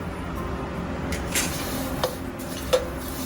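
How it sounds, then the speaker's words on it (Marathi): Red sesame seeds being roasted in a pan over a low flame, giving a steady dry rustling hiss punctuated by a few light clinks of a spoon against the pan. "आता तीळ भाजूया आपण मंद आचेवर"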